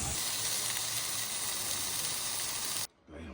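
A hot outdoor griddle sizzles and hisses with steam as it is cleaned, a steady loud broadband sizzle running about three seconds before cutting off abruptly, then a quieter hiss returning.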